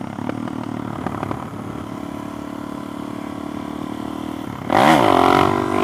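Suzuki DR-Z4S motorcycle running steadily for several seconds, then a sudden loud rev as the throttle opens for a wheelie, with the engine pitch rising sharply at the end.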